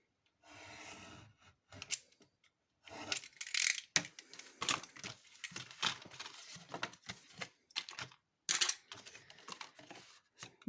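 A 30x30 paper sheet is cut for an explosion box craft, giving a close series of quiet irregular crisp snips and clicks with short pauses between them.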